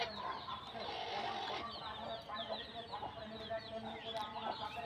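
Hens on a small poultry farm cluck and chatter continuously in an overlapping chorus, with a few brighter squawks rising above the steady flock noise nearby.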